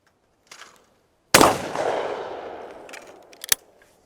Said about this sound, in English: squeeze the trigger, the gun goes off